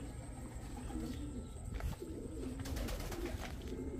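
A racing pigeon coos softly at its loft in low, gentle murmurs, quiet and close over a steady outdoor hum, with no voices.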